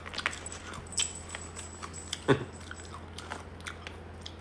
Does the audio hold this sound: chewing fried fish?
yes